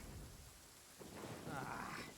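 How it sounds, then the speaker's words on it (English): A thunderstorm rolls through in Genshin Impact, a low rumbling roar of thunder over a wash of steady rain, swelling slightly toward the end and heard without speech. "Lightning storm!"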